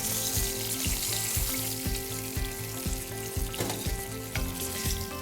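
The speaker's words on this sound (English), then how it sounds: "now we're adding our lamb necks to the pan to get a nice colour for our slow roasting" Lamb necks sear in a hot pan with a constant crackling sizzle, punctuated by a regular series of low thuds and clinks, nearby and with no voices.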